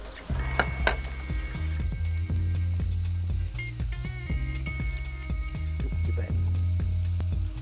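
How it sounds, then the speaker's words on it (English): Kangaroo kebabs sizzle steadily in their own marinade on a hot plate, a continuous close crackle with occasional louder pops and utensil scrapes, overlaid by a strong background musical drone; a brief voice calls out. "it's cooking in its own marinade too"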